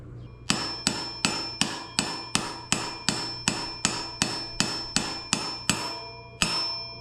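A Yamaha XT250 front wheel bearing is driven into the hub with about a dozen evenly spaced, sharp metallic hammer blows, each ringing briefly before the next strike, close and loud.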